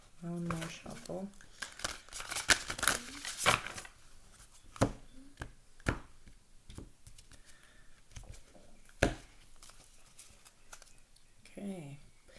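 Tarot cards being shuffled in quick riffling bursts with sharp snaps, close and crisp, interrupted by brief spoken remarks.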